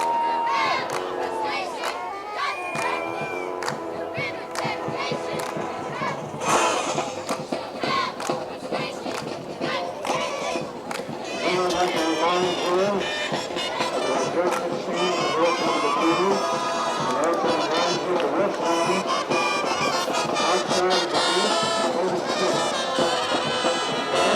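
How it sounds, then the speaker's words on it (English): Large crowd at an East Brunswick high school football game against Madison, a steady roar of shouting and cheering with chanting voices, continuous and loud, with a commentator speaking over it. "a good East Brunswick crowd is here to root on the team"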